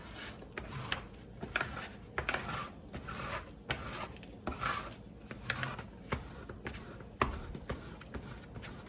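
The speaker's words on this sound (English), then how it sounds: "I'm gonna try and scrape some of this off." Thick beeswax being scraped off a fabric bread bag, a series of short, sharp scraping strokes repeating irregularly at close range with no talking.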